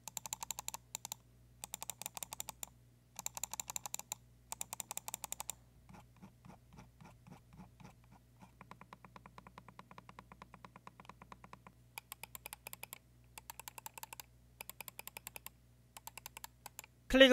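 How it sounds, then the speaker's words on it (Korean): A rapid series of crisp clicks from a Dareu A950 Wing mouse with Huano blue-shell white-dot switches, in short bursts with brief pauses, close and fairly loud but not sharp. "클릭음은 조금 소리가 큰 편이지만 날카롭지 않아서 거슬리진 않았고"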